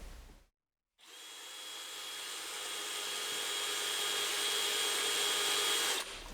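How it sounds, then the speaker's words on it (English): A power drill countersinks screw holes in the wooden sides of a Langstroth honey super box, a short blip followed by a long, steady high whine that holds for about five seconds and then cuts out. "Now we'll countersink the sides."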